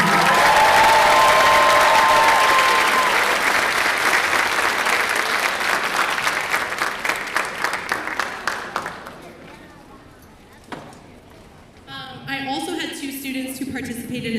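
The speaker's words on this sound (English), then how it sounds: "Let's give them a round of applause." Audience applause at a school spring concert: a loud, dense wave of clapping and crowd noise that holds steady, then thins and fades out after about nine seconds, followed by scattered claps and voices talking.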